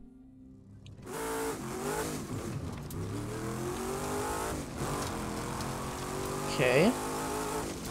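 A sports car in the racing game The Crew 2 starts up and revs, its engine rising and falling steadily, with a brief higher whine near the end, while someone speaks.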